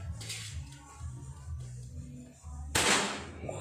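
A single sharp, loud crack from a Marauder Titan OD 38 air rifle bursts out near the end after a low, rumbling background, then decays quickly.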